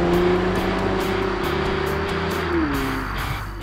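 A 2020 Toyota Camry TRD V6 engine and exhaust drone steadily from inside the car, a constant hum that rises slightly and then settles as the revs shift, with road noise underneath.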